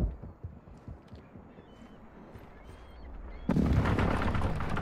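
An airstrike in the video game Call of Duty Warzone: distant booming impacts and rumbling blasts build to a loud, dense barrage that erupts near the end.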